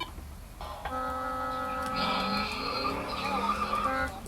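Several smoke alarms shriek together in a loud, continuous chorus of high-pitched tones, set off by two battery-powered bridge units running on low batteries, with layered alarm pitches sustained throughout and no talking.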